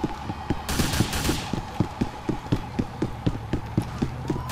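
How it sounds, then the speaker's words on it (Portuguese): Rapid automatic gunfire in GTA IV during a police patrol shootout, a steady rhythm of sharp bursts repeating about every third of a second for several seconds, with a louder crackling flurry early on and no talk. "Para de atirar em mim, mano."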